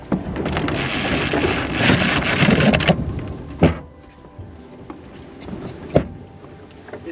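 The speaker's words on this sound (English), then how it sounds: "This gives you a little bit of an idea of what it sounds like inside of the boat as we" Inside a sailboat cabin during a tack in wind, a loud roaring, rushing clatter of the maneuver gives way to a quieter hull ambience with a few sharp thumps and knocks.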